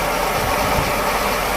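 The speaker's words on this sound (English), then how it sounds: "you can see how the engine runs." A car engine with a freshly rebuilt fuel distributor idles steadily, picked up up close from atop the radiator as a loud, even, vibrating drone with no talking.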